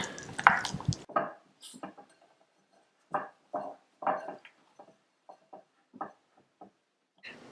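Hands kneading pizza dough in a home kitchen, producing soft sticky squishes and slaps in an irregular rhythm, close and fairly quiet with pauses between presses.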